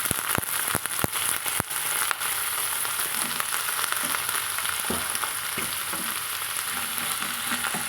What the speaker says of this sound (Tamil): நம்ம புதுசாக நறுக்கி வச்சுக்கிற நீல வாக்கில் கத்திரிக்காய் இது கூடவே சேர்த்து நம்ம வதக்கலாங்க